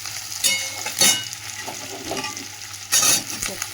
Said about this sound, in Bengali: এর সাথে একটু নেড়ে নিলাম, সবজিটা দিয়ে দিলাম।